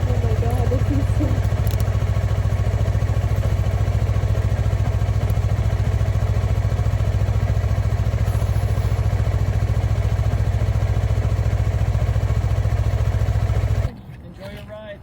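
A 2021 Yamaha MT-03 motorcycle engine drones steadily and loudly on a ride for about fourteen seconds, with wind rumble and a voice mixed in, before dropping away abruptly near the end.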